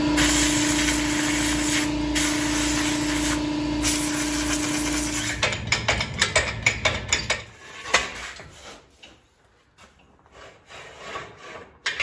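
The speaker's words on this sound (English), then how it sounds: "We're gonna blow all this mud out before we lift it off." Compressed air blasting mud off the cover of a Massey Ferguson 50 tractor before a pump change: a loud, steady broadband hiss for about five seconds, then clattering, scraping bursts as debris falls and the blowing stops and starts.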